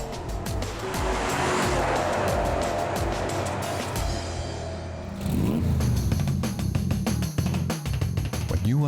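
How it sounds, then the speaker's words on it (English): Porsche Panamera driving, a steady engine and road rumble that swells into harder revving in the second half, heard up close with someone talking over it. "Here it is, the Porsche Panamera, today's classic of tomorrow."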